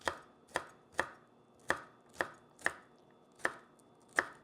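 A kitchen knife chops a bell pepper laid skin-side down on a cutting board, giving eight crisp, evenly spaced thuds close up, alone without talk.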